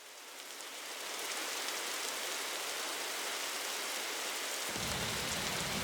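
Steady rain pours down in the video game Nightmare Frames, a continuous broadband hiss that swells in over the first second and holds evenly, with a low rumble joining near the end; no voices.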